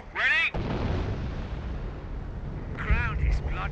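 Artillery barrage in Company of Heroes during the Liberation of Caen mission at Authie: a loud, sustained rumbling roar of shellfire fills the clip, with voices calling out briefly near the start and again near the end.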